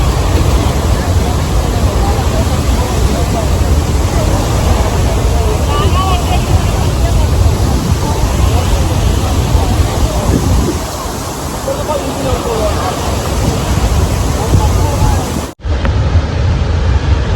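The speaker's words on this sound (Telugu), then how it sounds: "ఇంత దగ్గరికి ఎప్పుడైనా వాటర్ ఫాల్ చూస్తారా మీరు?" Athirappilly waterfall in Thrissur, Kerala, heard from right up close, a loud broadband roar of falling water that runs continuously and drowns everything, with faint voices mixed into it before a sudden cutoff near the end.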